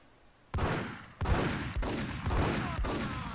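Gunfire in Max Payne erupts in a loud, close burst of overlapping shots, several sharp cracks repeating over a few seconds with no talk.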